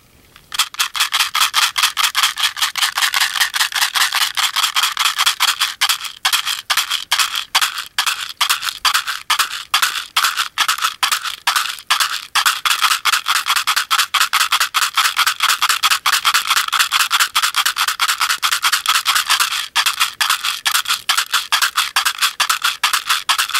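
A handmade Native American rawhide rattle is shaken in a fast, steady rhythm of dry, crisp rasping bursts, loud and close, with no other sounds.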